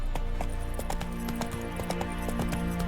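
Roach, Geralt's horse in The Witcher 3: Wild Hunt, trots along with a steady, regular clip-clop of hooves, close and fairly loud, with no voices over it.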